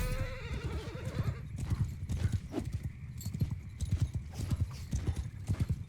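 Horses galloping in Mount & Blade II: Bannerlord, a dense patter of hoof clip-clops with a whinny near the start, continuous and fairly close, rhythmic hoofbeats running the whole time.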